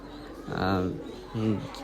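A pair of pigeons give soft, low cooing calls up close, two short rounded coos separated by a brief pause against quiet background hiss.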